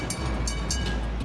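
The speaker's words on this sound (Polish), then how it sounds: "wsiądź do tramwaju ding-ding" A Hong Kong tram rumbles along with a low steady drone, punctuated by a few short bright metallic clicks or squeals from the rails.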